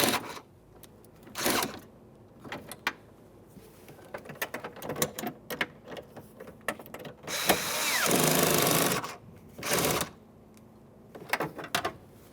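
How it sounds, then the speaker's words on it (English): Window regulator mounting nuts are tightened on a 2002-2009 Chevrolet Trailblazer rear door: several short bursts from a power driver and ratchet, with one longer whirring run partway through, separated by quiet gaps and small clicks of handling. "Tighten the mounting nuts."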